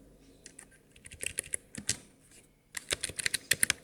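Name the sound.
typing code on a computer keyboard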